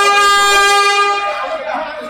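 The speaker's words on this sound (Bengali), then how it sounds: "বারবার হর্ন বাজিয়ে ব্যাক গিয়ারে আসছে কুয়াকাটা 2" The Kuakata 2 passenger launch sounds its horn on the river while reversing out from Barishal. A single loud, close, sustained tonal blast holds steady and then fades.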